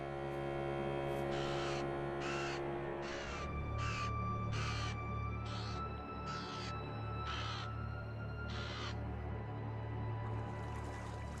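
A crow caws about ten times in a steady, evenly spaced series, clear and moderately near, over a constant low mains-like hum.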